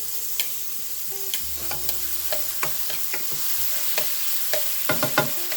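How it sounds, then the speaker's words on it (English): Bacon pieces fry in olive oil in a skillet, a steady sizzle broken by frequent sharp pops and spatters and a few stirring scrapes, close and fairly loud with no talking. "To our skillet, we are going to add some olive oil and then our pieces of bacon"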